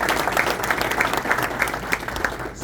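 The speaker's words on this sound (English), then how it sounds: "Let's get a round of applause for Jean." An audience at an Ohio Republican Party chairman candidate forum gives a dense, sustained round of applause, loud and close, with rhythmic clapping that stays steady to the end.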